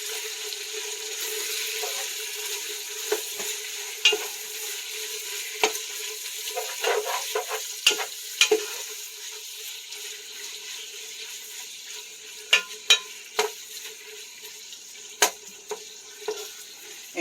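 Ground beef (carne picada) frying in a pan for a beef and vegetable soup gives a soft, steady sizzle, punctuated by sharp clicks and scrapes of a utensil breaking up and stirring the meat, close and fairly quiet.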